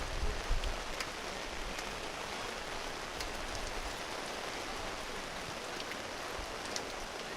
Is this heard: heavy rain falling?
yes